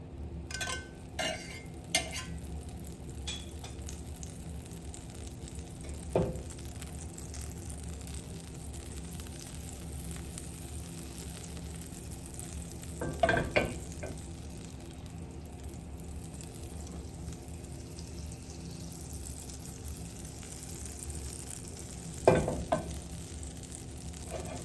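Butter sizzles in a hot skillet with a faint, even hiss, broken by a few sharp clinks and knocks of utensils against the pan spaced far apart.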